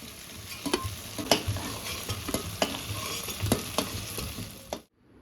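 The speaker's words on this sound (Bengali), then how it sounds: "ঘোলের উপর দেবো বলে হালকা ভেজে তুলে রাখছি" Oil sizzling steadily as prawns lightly fry, with sharp pops and spatters at irregular moments, close and moderately loud, cutting off abruptly at the end.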